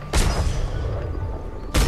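Gatling gun on a ship in the pirate game Atlas firing a loud sustained burst, with a sharp heavy blast at the start and another at the end.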